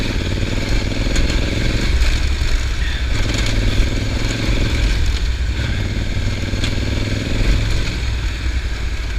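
Honda Africa Twin adventure motorcycle ridden on an off-road trail on Mount Hood, its engine droning loud and continuous with rough clattering and scraping from the terrain throughout.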